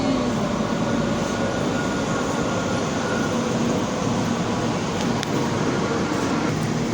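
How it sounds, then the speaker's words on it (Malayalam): A German intercity train arriving at a station, a loud continuous rumble and rolling rail noise that holds steady, with a brief high squeal near the end. "നമ്മുടെ ട്രെയിൻ വന്നിട്ടുണ്ട്."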